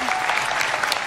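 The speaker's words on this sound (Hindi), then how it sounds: "जोरदार ताली" Dense clapping from the audience at a televised Nepali dance show premiere, loud and continuous through a brief burst.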